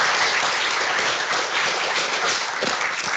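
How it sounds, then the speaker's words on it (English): A lecture audience claps in sustained applause, a steady wash of hand claps at moderate volume. "So if you can please give a round of applause to Naman."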